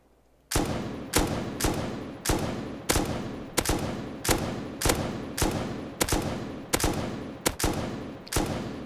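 Gunfire in the survival game Rust, about a dozen evenly spaced loud shots roughly every 0.6 seconds, each sharp crack trailing off in a short echo, with no talking.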